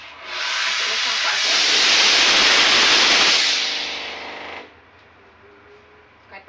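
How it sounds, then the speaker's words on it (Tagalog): A steam cleaning machine, used while mopping a kitchen floor, lets out a loud, steady hiss that lasts about four seconds and then cuts off abruptly, leaving a faint low hum. "Kay steam machine man atong gamit."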